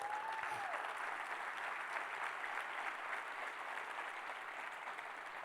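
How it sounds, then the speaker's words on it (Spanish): A church congregation applauding, a dense, steady wash of clapping from many hands that keeps up at an even level throughout, somewhat distant, with a faint voice briefly at the start. "¿Quién se anima y le da un aplauso a Jesús?"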